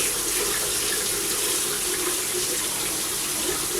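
Water runs steadily from a tap fed by solar-heated panels, a continuous close, even hiss and splash with no talking over it.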